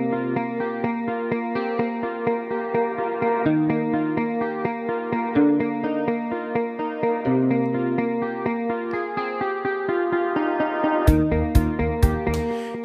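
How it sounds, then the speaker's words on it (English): Plucked, chord-like music soaked in a warm, mid-focused reverb with little top end, steady throughout, with sharp clicks near the end. "We just need to shape that reverb"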